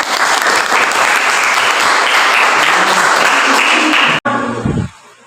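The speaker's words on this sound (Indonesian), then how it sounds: "Oke, kita beri tepuk tangan dulu." Loud, dense applause from a classroom audience during a group presentation fills the span, holding steady before cutting off abruptly near the end, followed by a brief low rumble and near quiet.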